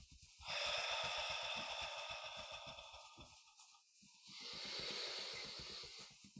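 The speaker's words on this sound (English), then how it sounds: "Exhaling from the mouth." Two long, breathy exhalations through the mouth during a meditation session, each a soft airy rush lasting a couple of seconds, close and alone.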